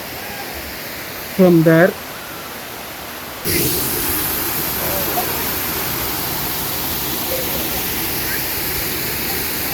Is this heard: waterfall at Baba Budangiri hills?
yes